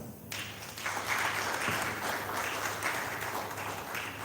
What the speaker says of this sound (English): Ladies and gentlemen, with a round of applause, let's welcome Lady Emily Hammond.